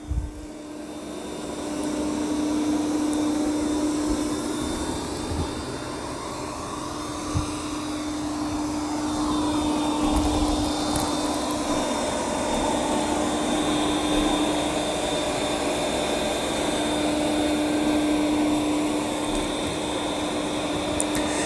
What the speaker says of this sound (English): let's see how the Yeedi C12 vacuums up this big mess